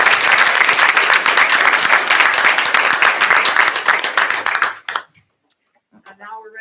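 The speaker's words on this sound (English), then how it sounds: "Let's give another round of applause for our local Dairy Queen." Audience applause at a school board of education meeting, loud dense clapping for about five seconds before it thins out and stops abruptly, followed by near silence and a brief voice.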